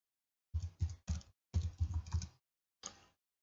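Typing on a computer keyboard, a few quick close key clacks in short bursts separated by pauses, with a final single keystroke.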